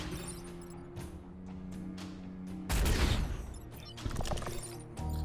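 A weapon fires in the tactical mech game Into the Breach, landing as a sudden loud crashing blast with scattered breaking debris, then a second, smaller impact, all over a steady low musical drone.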